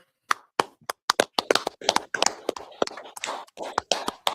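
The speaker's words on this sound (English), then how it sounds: "clap it up" A small crowd claps unevenly at a scripture gathering, with sharp, separate handclaps in a loose, irregular rhythm that grows busier toward the end.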